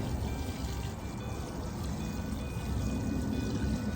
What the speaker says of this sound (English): So I'm going to just pour all this water.